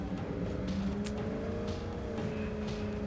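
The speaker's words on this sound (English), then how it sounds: "Start the engine!" Car engine running and revving in State of Decay 2, a steady low drone with rising and falling pitch, fairly quiet and unbroken, no talking.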